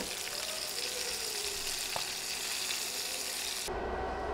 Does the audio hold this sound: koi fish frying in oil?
yes